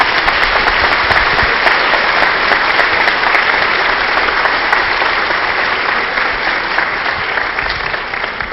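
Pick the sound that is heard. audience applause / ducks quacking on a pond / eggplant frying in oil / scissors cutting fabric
audience applause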